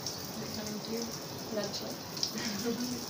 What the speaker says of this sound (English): You're turning the water on.